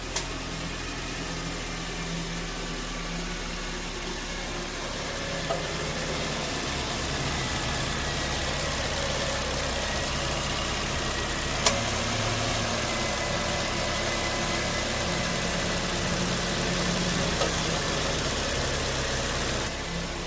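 A 2018 Nissan Kicks engine idles steadily with no throttle for about twenty seconds, a constant low hum with faint mechanical ticking and no voices.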